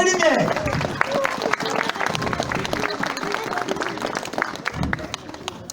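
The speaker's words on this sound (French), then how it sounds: "Les derniers applaudissements, je vous prie pas, pour la technique, son et lumière." A live audience claps after a Christmas stage show, dense sustained applause from a crowd, with a voice speaking loudly over it.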